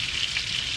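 Steak with spices on top frying in a hot pan as its fat melts, giving a steady, close sizzle with crackling texture that stays even throughout, no voices.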